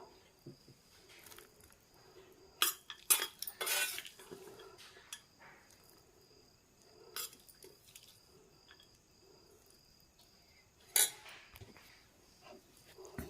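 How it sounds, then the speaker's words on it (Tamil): A spoon clatters and scrapes in a bowl while tempering is mixed into idli batter for kuzhi paniyaram, in short bursts of clinks separated by quiet stretches with faint background chirping. "தாளிப்பு மாவோடு கலந்துக்கலாம்."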